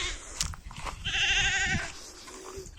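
A lost goat bleats once in a long wavering cry, fairly near, amid rustling and crunching of goats feeding on felled alder branches outdoors.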